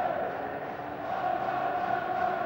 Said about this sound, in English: these fans applauding him and the other players this afternoon